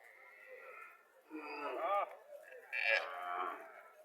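A local cow lows at a Comilla cattle market, its moo rising twice over steady market chatter, fairly close and moderately loud among nearby voices.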